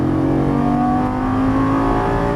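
A Lamborghini Gallardo LP550 on a racing course accelerating out of a turn, its engine roaring loud and close with a steadily rising, continuous tone.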